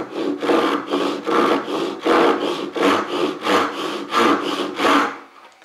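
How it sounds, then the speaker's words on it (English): A Japanese saw cuts a kerf across a marked line in wood, with about eight even rhythmic strokes rasping back and forth, close and clear, ending in a short quiet tail. "Now I've sawn a little kerf right the way across my top line."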